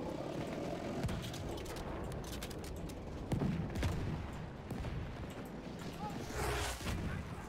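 An enemy tank fires its turret in Battlefield 1, with booming blasts and rumbling explosions amid continuous dense battle noise and someone talking over the din.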